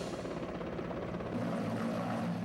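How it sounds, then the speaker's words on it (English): Helicopter flying over remote mountains in southwest China during a rescue operation, a continuous loud rotor drone with rhythmic low thumping that shifts slightly partway through, no voices. "Dozens of helicopters rescued more than 600 people from remote mountains in southwest China."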